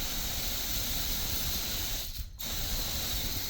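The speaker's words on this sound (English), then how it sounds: "Turn on your hose and there you go" Water rushes from a hose on a repaired yard hydrant at full pressure, a constant close broadband hiss with a brief dip in the middle and no voices.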